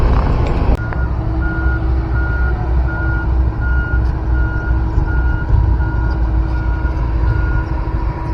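A large construction truck idles loudly on a toll road under construction while its reversing alarm beeps in a steady, evenly spaced rhythm, preceded by a short sharp knock.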